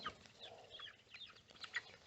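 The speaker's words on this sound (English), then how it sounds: "that white hen's going to chase them" Hens in a chicken pen making soft, scattered clucks and short chirpy calls, faint and irregular against a quiet outdoor background.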